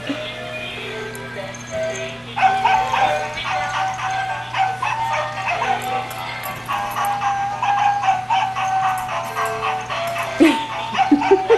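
A puppy howls and whines in a snowy yard, with high yipping wails in repeated bursts over a steady background hum, fairly close and continuous.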